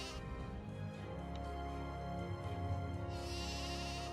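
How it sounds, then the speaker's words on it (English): Sheep bleating in the Shattered Medallion video game, a steady drawn-out bleat over a constant background hum of game ambience, with no talk. "Hi, sheep."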